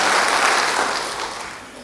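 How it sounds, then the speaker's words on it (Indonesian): A church congregation applauds during a sermon, a thick wash of many hands clapping at once, loud at first and gradually fading over a couple of seconds. "Beri tepuk tangan bagi dia."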